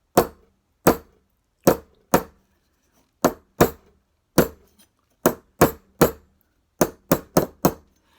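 Hammer blows on hot metal at a forge, about fifteen sharp ringing strikes in irregular groups with short pauses, close and loud with no talking.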